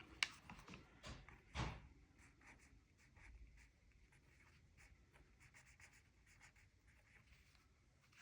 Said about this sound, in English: Okay, so at the top I'm going to write Christmas favorites.